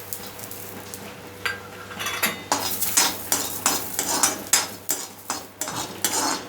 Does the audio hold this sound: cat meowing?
no